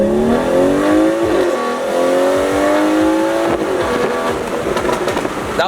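A modified BMW 340i M Sport launches hard from 0 to 60, its engine note climbing steadily through rising gears with a brief shift dip, loud and close throughout.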